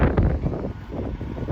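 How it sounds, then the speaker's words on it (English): Wind gusting outdoors on a dry, dusty day near a rock pile where heavy trucks deliver loads, a close, steady rumbling roar that buffets the microphone and rises and falls over a moment. "Windy."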